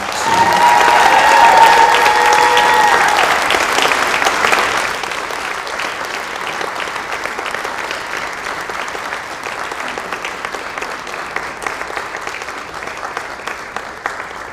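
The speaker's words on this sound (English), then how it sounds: "Please again join me in another just wholehearted round of applause for this year's Pantone 286 winner, Sue." An audience gives an award winner a wholehearted round of applause at a Trailblazer Nation gathering, loud dense clapping at first that thins and softens into scattered claps as it fades out.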